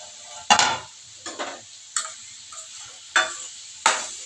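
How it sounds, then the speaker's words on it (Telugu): Carrots stirred in a frying pan with a faint sizzle beneath a handful of separate spatula scrapes and knocks, five strokes spaced roughly half a second to a second apart. "క్యారెట్ బాగా ఫ్రై కావాలి."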